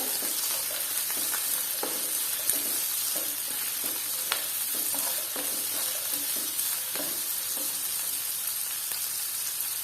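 Onion pieces sautéing in a pan for gobi Manchurian, a steady close sizzle with scattered crackles and occasional scrapes and clicks of stirring, continuing without voices.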